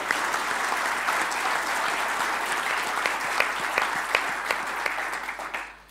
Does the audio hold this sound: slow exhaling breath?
no